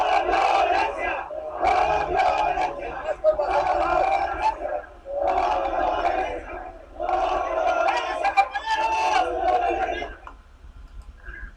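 Student groups at a commemorative march along Paseo de la Reforma chant the traditional alert cry in rhythmic bursts, a large crowd shouting in unison with short pauses between calls, somewhat distant and loud.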